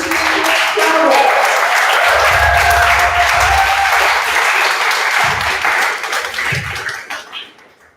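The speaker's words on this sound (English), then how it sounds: "give a big round of applause for 3 Clicks Travel." An audience at a coding bootcamp demo day in Lisbon claps and applauds loudly and continuously for several seconds, with a few voices mixed in before the applause fades out at the end.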